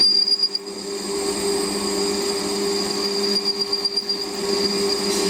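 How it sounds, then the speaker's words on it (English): A Warco WM180 lathe cuts hardened material, giving a sustained high-pitched squeal over a steady machine hum, close and continuous, with slight rattling toward the end. "Squeals a bit for about the first ½ millimetre because of the hardened material."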